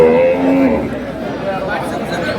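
A cow with her calf gives a short low moo near the start, with people talking and murmuring in the background at the Aftabganj cattle market.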